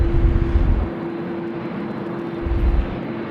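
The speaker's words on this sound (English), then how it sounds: "Here we go, Virgin 738 now, rolling runway 25." A Virgin Boeing 737-800 jet rolls on runway 25 at Sydney Airport on a windy day, giving a steady, loud, broad roar heard from the distance with gusty low rumbles.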